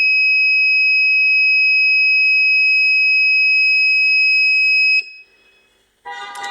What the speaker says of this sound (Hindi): उसके बाद इसने बीप किया